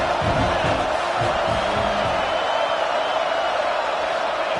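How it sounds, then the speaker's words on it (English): A college football home crowd in a stadium roars and cheers at a loud, sustained level with no lulls throughout. "how nice is it to have the home crowd going absolutely bananas?"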